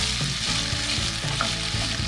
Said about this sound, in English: We fry the potato and the sweet potato